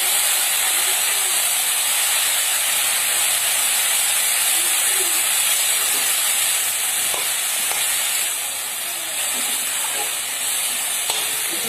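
Taro pieces frying in hot oil alongside fish in an Assam village kitchen, a steady loud hiss and sizzle filling the whole stretch, with faint clinks and stirring underneath.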